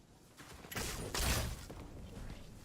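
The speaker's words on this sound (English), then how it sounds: "We hear lots of big explosions happening in the distance" Distant explosions in a Fortnite match, a few heavy rumbling blasts and crackling bursts swelling and fading at moderate volume, with no voices.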